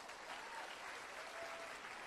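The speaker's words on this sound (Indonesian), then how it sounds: "Tepuk tangan buat upline Anda sekali lagi." An audience at a seminar claps for their uplines, a continuous, faint and fairly distant wash of applause with no voices.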